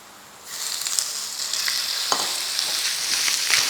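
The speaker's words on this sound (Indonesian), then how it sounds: "Setelah wangi bawang putihnya, kita masukin ayam." Loud sizzling starts abruptly as chicken hits a hot pan with fragrant garlic, then a steady crackling fry continues with occasional stirring clinks.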